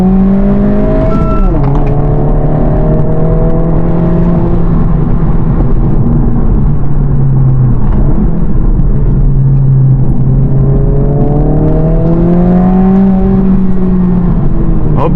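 A 2025 Honda Civic Si engine pulls hard through the gears, its loud revving note climbing, dropping at each shift and climbing again in steady close-up rumble from inside the car.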